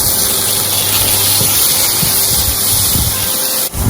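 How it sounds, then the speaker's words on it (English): Grated onion and garlic sautéing in butter for a butter lemon fish dish give a steady, loud, broadband sizzle and hiss that holds evenly throughout, with a brief dip near the end. "We'll saute the onion and garlic and fry it and cook it until the flavor is well infused into the butter."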